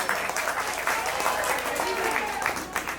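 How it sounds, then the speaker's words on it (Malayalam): An audience at a rainy outdoor gathering claps in a dense, steady round of applause, close and loud, with some voices audible beneath it. "നിങ്ങൾ എല്ലാവരും നല്ല ഉഷിരൊരു ഈ മഴയത്തൊരു നല്ലൊരു കയ്യടി കൊടുക്കണം."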